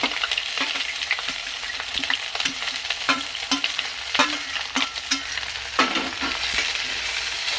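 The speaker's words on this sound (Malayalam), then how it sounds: "അതിലേക്ക് വെളുത്തുള്ളി ഇഞ്ചി പച്ചമുളക് കറിവേപ്പില" Garlic, ginger, green chilli and curry leaves sautéing in a pan for beetroot pickle, a steady close sizzle broken by repeated sharp scrapes and knocks of a stirring spoon.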